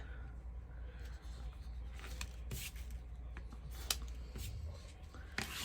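A few quick snips of scissors cutting pipe cleaners, scattered crisp clicks over a quiet background.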